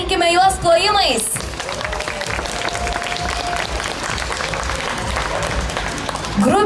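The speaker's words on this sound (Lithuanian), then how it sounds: "pasveikikime juos plojimais" An audience applauds at a public festival event in Palanga, a sustained wash of clapping following an announcer's voice and continuing steadily until speech returns at the end.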